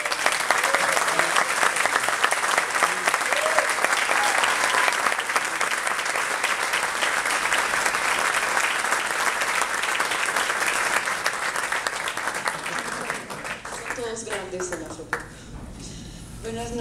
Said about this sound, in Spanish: yo le voy a pedir un fortísimo y caluroso aplauso para Yulí, esposa de Rafael.